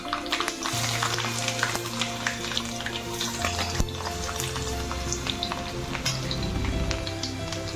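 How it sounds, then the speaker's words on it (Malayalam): Ginger and garlic dropped into hot oil with popping mustard seeds, a continuous crackling sizzle with scattered sharp pops, close and steady, no talk over it. "അതിലേക്ക് ഇഞ്ചി വെളുത്തുള്ളി ഇട്ട് കൊടുക്കാം"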